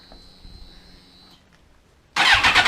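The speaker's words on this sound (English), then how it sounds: "you're going to want to just turn on the bike" A motorcycle that has sat unused for a while starts up for an oil change: a quiet idle hum gives way to a sudden loud, rough burst of engine noise as it fires, with no talking.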